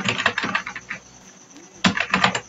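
Rapid typing on a computer keyboard while working in MS Word, two bursts of close, crisp key clicks separated by a short pause.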